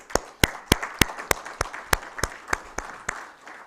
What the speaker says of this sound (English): A hearty applause.